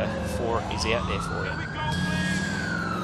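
Emergency vehicle siren in the video game GTA IV wails steadily with a rising and falling tone, fairly loud and close, running beneath a man's speech throughout.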